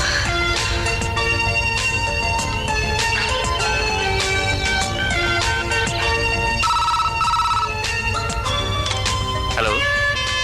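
A telephone ringtone in a Telugu film scene, loud and continuous melodic electronic ringing that repeats its pattern without pause and fills the whole stretch.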